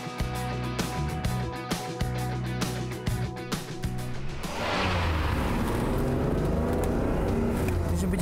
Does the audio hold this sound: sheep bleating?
no